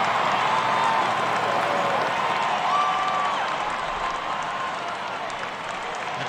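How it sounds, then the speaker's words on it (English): A steady roar of a large crowd cheering and clapping in a baseball video game, Out of the Park Baseball 22, continuous and fairly loud, easing off slightly toward the end. "The crowd is pumped."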